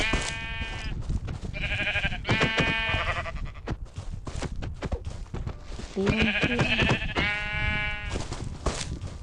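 Sheep bleating in the Minecraft video game, several repeated blocky bleats in two bursts, loud and close, with someone briefly talking between them.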